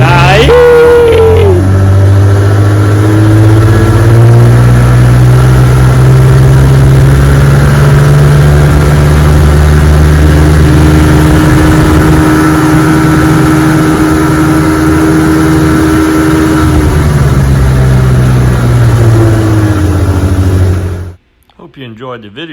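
A 1961 18 HP Evinrude outboard motor runs on a bayou, a loud, steady droning engine with a slight pitch dip early and a gradual fall near the end before cutting off abruptly, heard close up.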